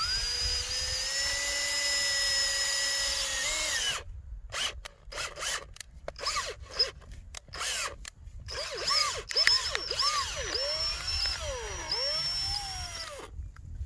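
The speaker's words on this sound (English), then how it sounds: "We'll insert our drill bit and start pulling our sample cord." A power drill bores into soil to pull a sample core for soil testing: a loud, steady whining motor for about four seconds, then stuttering bursts as the bit is started and stopped, followed by rising and falling revs.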